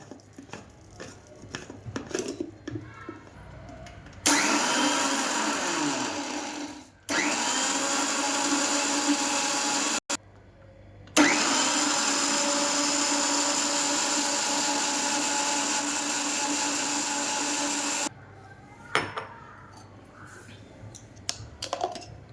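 A kitchen blender grinds mulberries with sugar and salt in two loud, steady whirring bursts, a short one and then a longer one. Quiet handling sounds come before and after each burst.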